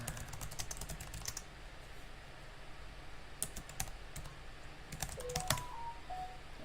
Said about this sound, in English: I'm typing on the secondary screen